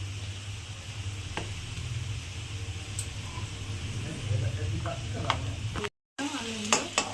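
Onion frying in a little white oil at the start of a thin chicken curry, with a steady close sizzle and stirring scrapes throughout and a brief break near the end.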